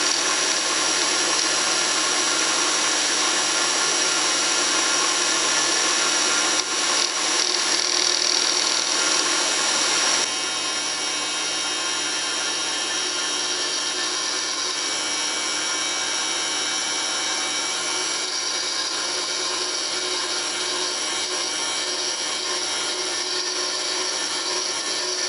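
A spindle surface being ground on a milling machine, a loud steady high-pitched grinding whine that runs continuously with slight shifts in tone and no talking.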